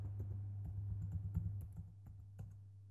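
A password is typed on a computer keyboard as a quick run of soft, close key clicks over a low steady hum, easing off at the end.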